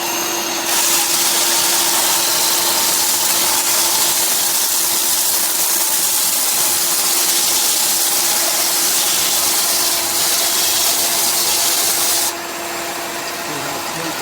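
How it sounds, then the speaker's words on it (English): A belt sander flattens a rough art piece, giving a loud, steady abrasive roar with a constant motor whine that runs unbroken for most of the stretch before easing slightly near the end, close up and alone. "I take it onto a belt sander and I flatten them out"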